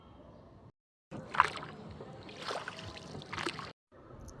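A wooden oar dips and splashes in river water from a boat, with about three soft, broad sloshing strokes spaced roughly a second apart, close by and moderate in level.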